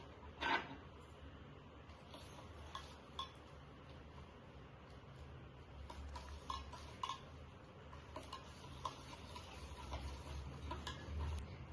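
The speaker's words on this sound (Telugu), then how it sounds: "ఇప్పుడు మనం ఇలాచీ పౌడర్ వేసేసుకుందాం. ఇప్పుడు మనం మిక్స్ చేసేస్తాం." A spoon stirs a panakam mixture of dissolving jaggery and cardamom powder in a vessel, with faint, irregular light clinks and scrapes against a low background hum, quiet and close.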